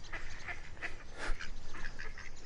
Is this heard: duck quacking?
yes